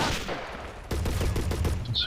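Gunfire crackles in the World War II strategy game Men of War during a Soviet assault on a bridge: a quick run of several rapid shots after a brief lull, loud and close over battlefield noise.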